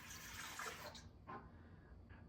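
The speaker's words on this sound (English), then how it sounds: "First we're going to start off with some warm water" Warm water pours for dinner roll dough, a bright, splashy stream that runs steadily for about a second, then breaks into a few short, fainter splashes and trickles.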